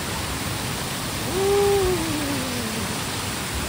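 The Langboku waterfall in Karbi Anglong rushes with a steady, broadband roar of falling water. A brief whistling tone rises and falls over the constant wash midway through.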